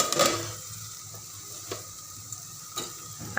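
Turmeric and masala spices for a soybean curry sizzle in a hot pan, a soft steady frying hiss with a few light clicks of a spoon stirring, close and with no talking.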